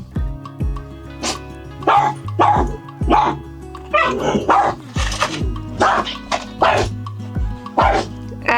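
A puppy barks and yips repeatedly in sharp, loud bursts close by, with whimpering between barks and an older dog nearby.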